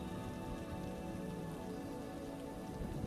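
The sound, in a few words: heavy rain falling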